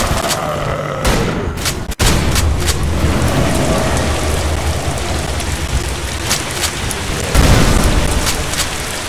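Steady acid rain hisses over the industrial Steel Town map in the game The Haunted: Hells Reach, with rolling thunder and scattered cracks breaking through the constant downpour.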